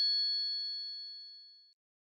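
A single bright electronic chime from a phone ringing in a Pakistani drama scene, clear and close, ringing out and fading smoothly over under two seconds, then silence, with no voices.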